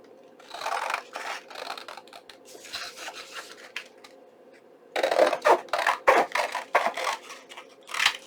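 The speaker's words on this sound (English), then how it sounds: "place my envelope here and then just trim this out" Scissors trim a paper envelope in a string of crisp snipping cuts. They start sparse and moderate, then come in a louder, quicker run near the end, close up with no talking.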